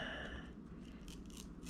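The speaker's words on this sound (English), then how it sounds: "you can see it cuts the paper fairly easily" A SOG Trident Tanto knife with an AUS8 steel blade slicing through paper, a few quiet, quick scraping swishes close by, faint and brief.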